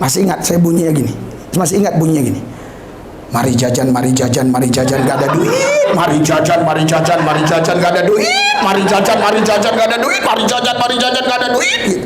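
A man chants a rhythmic repeated phrase, mimicking the chugging beat of an old train loudly into a microphone, with some laughter at the start.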